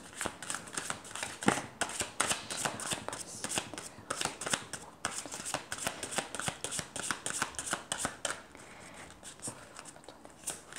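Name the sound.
shuffling oracle cards for a reading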